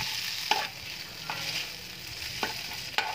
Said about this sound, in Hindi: अब नूडल्स को अच्छे से मिक्स कर लें।